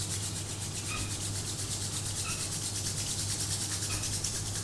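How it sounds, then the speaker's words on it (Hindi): Steady, soft friction of two palms rubbed briskly together during a home yoga session, close and continuous over a low constant hum, with no speech. "हाथ ऐसे बिल्कुल ऐसे करेंगे, रब करेंगे बढ़िया से"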